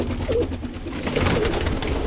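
Birmingham Roller pigeons coo softly in their loft, with low murmuring calls repeating under a steady background hum.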